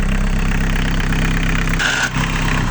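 An Isuzu 1.7 diesel engine taken from an Opel Combo runs at a steady, close, rumbling idle, with a brief change in tone near the end and no talking.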